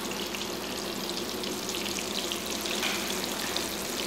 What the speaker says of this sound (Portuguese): a gente vai colocar os pedaços de carne para selar